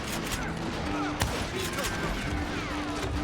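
Gunfire in the Western shooter Call of Juarez: Gunslinger, with dense overlapping shots and one sharp crack standing out over continuous game sound and effects.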